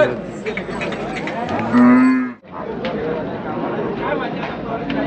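A bull lets out a loud, drawn-out moo amid a busy crowd at a cattle market in Chakan, with people talking nearby throughout.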